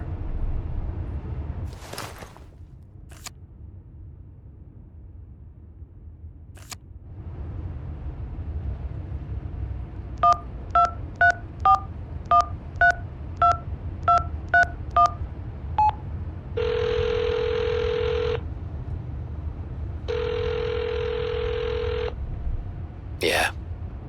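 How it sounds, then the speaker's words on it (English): A telephone number is dialed in the mystery game Hitchhiker, with about a dozen crisp DTMF key tones in a quick series, then two longer ringback tones over a low rumble. "Dial the number."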